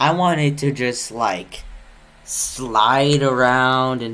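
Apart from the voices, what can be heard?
None of the usual background noises is heard.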